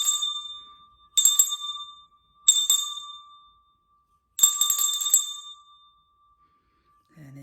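A red meditation bell sounded for the root chakra, struck four times with clear bright rings that hum and fade slowly between strikes, alone in a quiet room, with a short voice at the very end.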